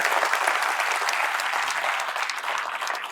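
An audience claps at an inspirational talk, loud dense applause from a large crowd that holds steady and eases slightly toward the end.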